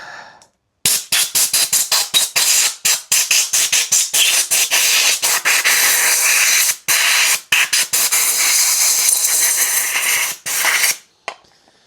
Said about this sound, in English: I'm going to turn on the compressor here.